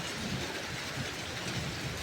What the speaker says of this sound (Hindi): लेकिन बारिश बहुत तेज हो रही है।